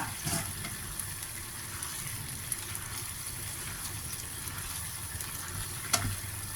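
Chicken gravy for rad na boiling in a pot, giving a steady close bubbling hiss throughout, with one sharp knock near the end.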